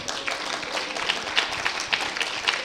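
Steady applause from a crowd at an education department event, many hands clapping at a distance in a continuous patter.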